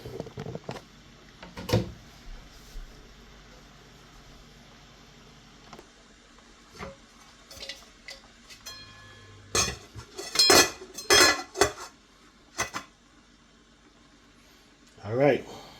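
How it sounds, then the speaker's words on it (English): A metal lid is set onto a cooking pot on the stove, giving a cluster of loud clinks and rattles near the end, with quieter handling knocks scattered earlier and a voice talking in between. "we're gonna put a lid on it. And we're gonna crack the lid"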